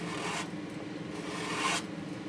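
A woodturning tool's burr is gently pushed back by hand with a light, dry rasp, two soft strokes with a lower rubbing sound between them, close and quiet.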